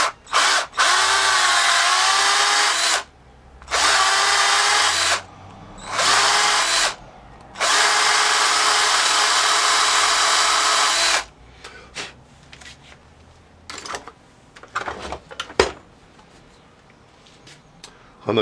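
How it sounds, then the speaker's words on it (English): A power drill with a spurred bit bores a half-inch-deep hole to seat a nut, running in four loud, steady whining bursts close by, the last and longest about three seconds, then a few faint clicks and handling knocks. "I do use a spurred bit. I'm going to go down 1/2 inch."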